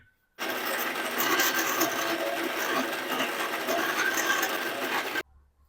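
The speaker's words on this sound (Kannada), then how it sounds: "ಈರುಳ್ಳಿನ ಮಿಕ್ಸರ್ ಹಾಕೊಳ್ಳೋಣ" A kitchen mixer grinder grinding onion starts abruptly and runs as a loud, even whir for about five seconds, then cuts off sharply, with no talking.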